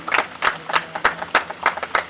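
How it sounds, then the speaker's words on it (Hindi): An audience applauds to welcome a newspaper's managing director onto the stage at an event, with steady, rhythmic clapping in repeated bursts. "मैं चाहूंगी कि आप लोगों की तालियां बजती रहें"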